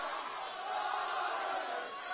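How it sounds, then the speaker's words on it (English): A boxing crowd cheers the fighters at a corporate boxing event, a dense, continuous roar of voices at moderate distance that swells slightly mid-way without letting up. "Listen to this crowd getting behind the boxers"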